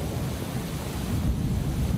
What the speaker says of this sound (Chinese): 下午突如其来的大雨造成中部地区多处淹水